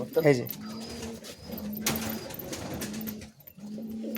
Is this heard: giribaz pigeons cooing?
yes